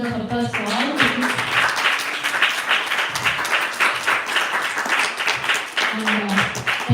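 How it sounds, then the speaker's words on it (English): An audience at a children's Hari Katha storytelling competition breaks into sustained applause, dense and close, while a voice speaks briefly at the start and near the end over the clapping. "give a big round of applause for all of you."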